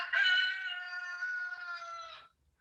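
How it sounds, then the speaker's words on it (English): A rooster on a neighbouring farm crows one long, drawn-out call lasting about two seconds, clear and fairly close, standing alone against a silent background. "So the roosters at the farm next door"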